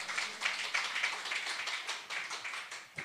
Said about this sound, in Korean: 박수를 좀 확실히 주십시오.